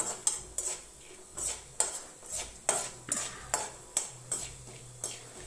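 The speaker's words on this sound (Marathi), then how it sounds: "जरा डाळ खरपूस अशी भाजून घ्यायची म्हणजे छान वास येतो." Lentils (dal) dry-roast in a pan while a utensil stirs them, giving a steady series of about ten soft scraping, clinking strokes at an even rhythm, fairly quiet and close.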